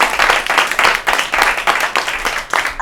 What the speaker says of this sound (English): But another round of applause for Mary's stellar performance.